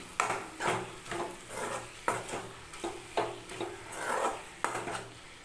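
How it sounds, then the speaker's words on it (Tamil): Dried fish being stirred into karuvadu thokku in a pan, a series of scraping, rubbing strokes in a steady rhythm with sizzling underneath, close and moderately loud. "இதை சேர்த்து நல்லா கலரி விட்டுக்கலாம்"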